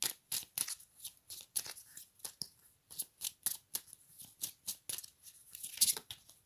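Tarot cards are shuffled and drawn close up, making a run of quick, crisp riffling and flicking bursts in an irregular rhythm, quiet and free of talk.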